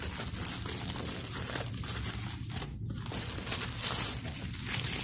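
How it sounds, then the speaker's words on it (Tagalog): Cardboard package being opened with scissors, containing a Bluetooth mouse and keyboard, heard as steady close crinkling and tearing of packing material with no voices. "So, open natin yung box."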